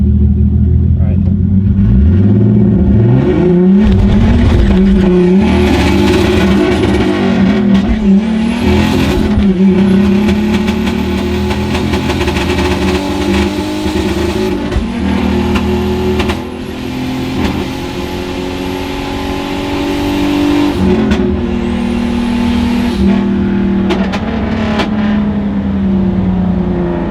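A turbocharged BMW E34 drag races a Mustang GT, loud engines revving and rising through gears with turbo whistle and rumble, close and sustained, while people talk over the run.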